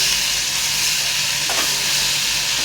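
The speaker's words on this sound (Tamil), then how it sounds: "சும்மா ஒரு லைட்டாக வதக்க தான் போகிறோம்" Mint leaves, coriander and tamarind are lightly sautéed in a pan for mint chutney, making a loud, even sizzle with one short stirring scrape.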